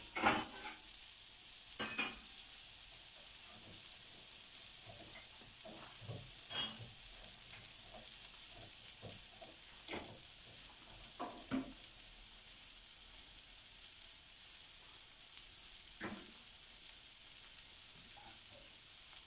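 Hot tasha, a garlicky fried topping for meat and bulgur kofta, sizzles steadily in a pan, a continuous hiss broken by a few sharp scrapes and clinks of a utensil; no one speaks.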